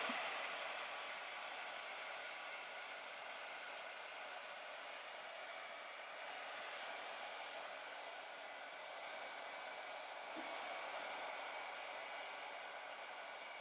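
A hair dryer blows steadily on wet paint, a continuous broadband whoosh held at an even, fairly loud level for the whole stretch with no talking over it.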